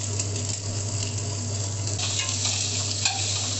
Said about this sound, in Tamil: கொஞ்சம் எண்ணெய் ஊற்றி முதல்ல எண்ணெய் காஞ்சதும் வெங்காயத்தை கொஞ்சம் வதக்கிக்கலாம்.